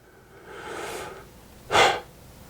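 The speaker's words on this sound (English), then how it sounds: "What the hell is with the heavy breathing?" Heavy breathing: a long drawn inhale followed by a brief, sharper forceful exhale, close and fairly quiet against a still background.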